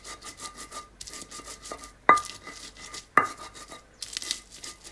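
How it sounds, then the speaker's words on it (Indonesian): Scraping and rubbing of a pestle grinding spices and fine salt into a paste for tempe mendol, steady gritty strokes with a couple of sharp knocks, close and alone. "Lalu kita haluskan sampai semua bumbu rata"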